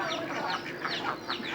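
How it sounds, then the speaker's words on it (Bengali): Ducks and chickens at a village home in the evening, with repeated quacking calls rising over a steady, fairly loud farmyard background. "হাঁস মুরগির সন্ধ্যার সাউন্ড অনেক সুন্দর লাগে।"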